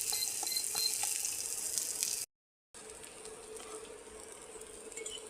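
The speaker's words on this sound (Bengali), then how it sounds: "আমাকে এটা ভালো মতন ভেজে নিতে হবে।" Food sizzling in a pan over a low flame in a home kitchen, a close, steady crackling fry that cuts out for a moment and then resumes, with no one speaking.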